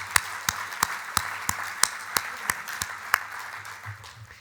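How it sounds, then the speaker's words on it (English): Evenly spaced single claps ring out, about two per second, soft and fairly distant, as an audience at a 3D printing talk applauds the Toshiba team. "we owe everyone from Toshiba a round of applause"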